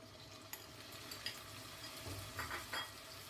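Marinated chicken breast frying in oil in a pan, a faint steady sizzle with a few soft clicks and stirs from a utensil.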